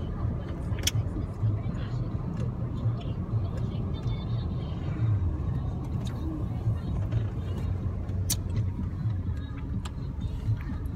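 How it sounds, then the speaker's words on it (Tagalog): Road traffic on the way to a toll plaza, a steady low engine rumble and tyre drone heard from inside a vehicle, with occasional clicks and people talking over it. "Haba ng traffic."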